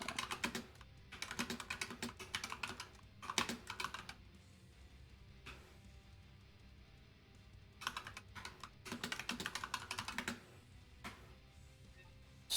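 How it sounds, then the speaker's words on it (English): Typing on a computer keyboard in bursts of rapid clicks, with pauses between runs, fairly close and alone over a low room hum. "Just typing."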